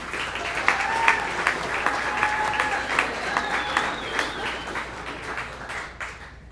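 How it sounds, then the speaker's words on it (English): Wedding guests applaud the newlyweds at an evening celebration: dense, steady clapping from a crowd, loud and sustained throughout, with a few faint whistle-like tones riding above and some murmured voices mixed in. "So again, I'd like to give them a round of applause"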